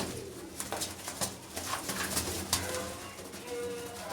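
Pigeons coo in low, soft repeated calls amid a busy flock ambience, with scattered wing flutters and chirps close by.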